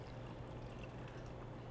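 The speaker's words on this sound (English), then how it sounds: "So now do we just pour it in the glass?" Iced tea pours into a glass as a continuous soft, splashing trickle, faint and steady throughout, with no voices.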